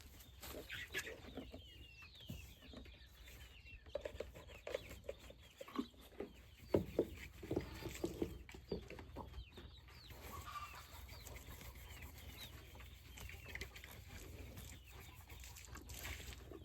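Chickens clucking and squawking in a lively, agitated flurry around a farm, several birds calling near and far with a busy burst of noise in the middle.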